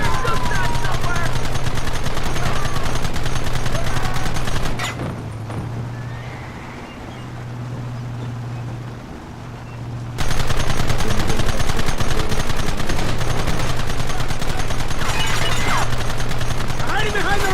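Gunfire in a Red Dead Redemption shootout with horses nearby: rapid, loud shots rattle alongside neighing and hooves, fall away into a quieter lull midway, then the firing comes back hard.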